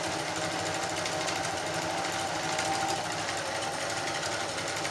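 A Singer zig zag 1302/1288 sewing machine running steadily, giving a dense, continuous mechanical whir and rattle at an even loudness throughout, with no pauses.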